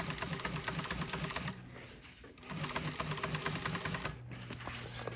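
Sewing machine stitching marine boat cover upholstery, running in a fast steady mechanical whir with a brief slowdown midway, close and loud.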